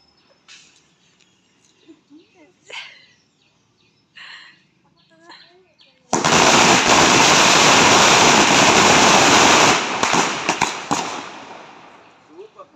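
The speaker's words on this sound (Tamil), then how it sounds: "அது வெடிச்ச உடனே அப்புறம் நம்ம வெடிக்கலாம்" During Diwali, a firecracker erupts into a loud, sustained hissing burst of about four seconds, then trails off into scattered crackles, after a quieter stretch of chatter and small ambient sounds.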